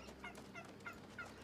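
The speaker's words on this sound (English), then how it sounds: "Oh my gosh, look at all these turkeys right here." Turkeys gobbling in the video game New World, a few short warbling calls repeating through the clip at moderate, fairly quiet level over a steady game ambience.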